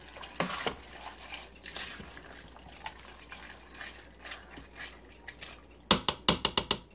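Pasta being stirred into soup inside a Pampered Chef Quick Cooker, giving soft wet sloshing and dripping with scattered spoon scrapes, then a quick run of sharp clicks near the end.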